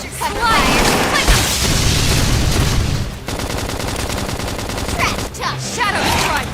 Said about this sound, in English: I've got your cover fire.